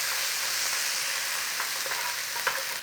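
Tomatoes seasoned with black salt fry in a pan with a steady, close sizzling hiss and a few faint stirring scrapes, with no talking.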